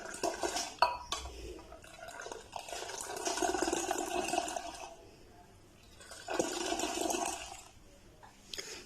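Milk for homemade yogurt is whisked in a pot, giving repeated scraping, sloshing and clinking against the metal in uneven bursts with short pauses, close and moderately quiet.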